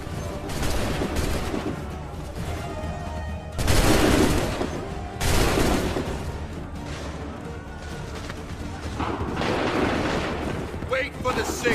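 Musket volleys from Assassin's Creed III, with dense crackling gunfire and heavy booming bursts around four and five seconds, while shouted voices run beneath the battle noise.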